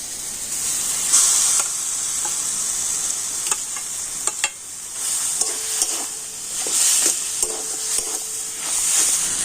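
Grated ginger sizzles and hisses in a hot pan, loud and close, while a spoon scrapes and stirs in irregular knocks and clatters, the frying hiss swelling and easing throughout.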